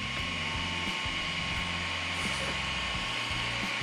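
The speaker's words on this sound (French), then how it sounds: "vous les entendez. Les ventilateurs fonctionnent." Steady whirring hum of small cooling fans running continuously on an Arrma Outcast 8S RC car with a Castle 2028 motor, with a constant mechanical drone and faint rattling texture throughout.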